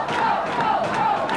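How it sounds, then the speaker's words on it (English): Hockey arena crowd at a high school section playoff game cheering and shouting continuously, a dense, loud wash of voices with no break. "The crowd's starting to get into the game now."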